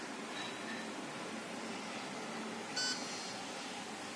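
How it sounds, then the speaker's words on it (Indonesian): The buzzer of an ultrasonic sensor on an automatic gate gives one short, thin electronic beep over a steady background hiss. "jika kendaraan akan terlalu menempel pada tembok, maka buzzer akan berbunyi"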